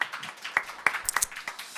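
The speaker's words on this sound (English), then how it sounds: "Please welcome him with a round of applause." Scattered clapping from a small audience at a startup demo day welcoming a presenter, a brief run of separate, uneven handclaps rather than a full ovation.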